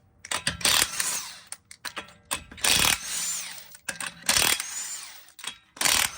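An impact wrench removes a wheel from a 2017 Toyota Corolla, firing in several sharp, loud bursts of rattling hammering separated by short pauses, close by.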